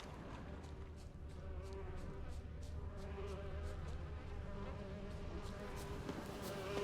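Insects buzz in The Witcher 3: Wild Hunt, a steady drone of bees or flies running through the whole stretch at moderate level, with faint higher whines drifting over it.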